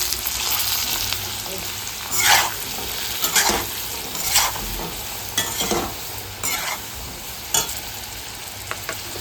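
Ground coriander, cumin, turmeric, Kashmiri chili and red chili powders and kasuri methi fry in a pan for an elephant foot yam curry. A soft continuous sizzle runs throughout, broken by several sharp scraping stirs close by.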